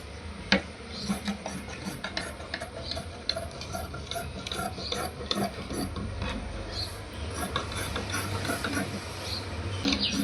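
Scissors cutting blouse fabric, with a rapid run of small crisp snips and ticks, close and steady, over a low background rumble.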